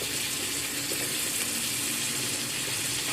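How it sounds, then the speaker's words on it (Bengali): Pointed gourds frying in hot mustard oil in a pan, a steady, loud, close hissing sizzle throughout with no talk. "তখন আমি প্রথমে এখন পটলগুলোকে ভেজে নেব।"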